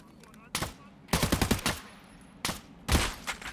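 Bursts of AK rifle gunfire in Escape from Tarkov, several short automatic volleys of rapid shots separated by brief pauses, loud and close.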